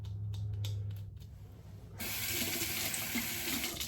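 A razor is rinsed under running hot water from a tap, a steady close hiss of flowing water starting abruptly midway after a quieter stretch of faint clicks and hum.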